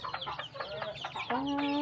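Chickens cluck in quick repeated bursts close by, a busy farmyard chatter with overlapping calls and a longer drawn-out note near the end.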